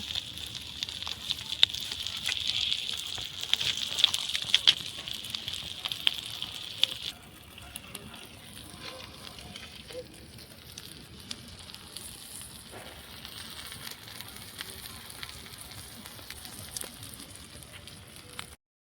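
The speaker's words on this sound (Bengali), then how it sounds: "আমাদের দেশি ইলিশ মাছের রোস্টটা এক সাইড হয়ে গেছে, আর এক সাইড অল্প বাকি আছে" Native hilsa fish roasts on a banana leaf, giving a soft continuous sizzle and hiss that is louder at first, then settles to a quieter crackle.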